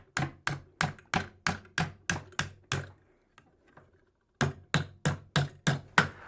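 Sharp hammer blows shape a copper bracelet bend on a wooden bat mandrel, striking in a steady rhythm about every third of a second. A pause of roughly a second and a half breaks the run before the blows pick up again.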